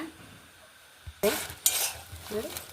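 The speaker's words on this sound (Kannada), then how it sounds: "ಸಾಸಿವೆ ಹುಟ್ಟಿದ ಕೂಡಲೇ ನಿಮ್ಮ ಮೆಣಸೆಲ್ಲ ಹುರಿದು ಬಿಡುತ್ತೆ" Mustard seeds and chillies fry in hot oil for a white pumpkin chutney tempering, giving a soft crackling sizzle with a few louder bursts and faint stirring clinks, no talk.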